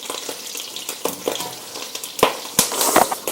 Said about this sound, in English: As you can see, I'm trying to flip the lobster tails to get an even cook on all sides.